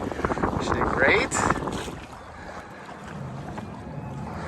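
Catalina 30 sailboat under sail on open water at the start of the season, steady rush of wind and water around the hull with buffeting gusts on the microphone, a voice briefly heard.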